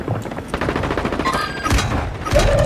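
Rapid gunfire from a first-person shooter game, loud bursts of automatic shots rattling steadily through the whole stretch with a few heavier cracks toward the end.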